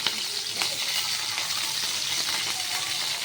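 Taro leaves sizzle steadily in hot oil in a pan, a continuous close frying hiss with a few faint clinks, no voices.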